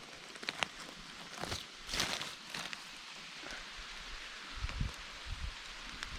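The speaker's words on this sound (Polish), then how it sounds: "Nie wiem czy słychać, ale dosyć mocno pada." Steady heavy rain hissing through foliage in a forest, with a few louder rustles and drips, nearby and continuous, no talking.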